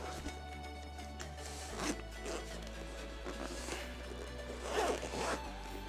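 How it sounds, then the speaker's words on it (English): A zipper on a DJI Mavic Air 2 Fly More combo carrying bag being pulled open in a few quick rasping strokes, close to the mic, with no talking. "zip and see what I get inside"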